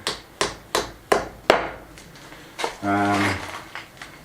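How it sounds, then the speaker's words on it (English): A plug being knocked into a drilled hole during a restoration job, five sharp, evenly spaced hammer taps followed by a couple more knocks, close and loud, with a brief tonal scrape or squeak between them. "So I'm just going to knock a plug in."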